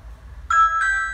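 Ring Pro video doorbell chime after the button press, a loud, close two-note electronic ding-dong repeated, with faint road traffic noise beneath.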